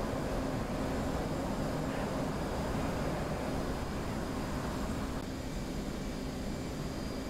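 An F/A-18 Hornet jet engine at full afterburner in DCS World, heard as a steady, dense, loud roar that holds unbroken throughout.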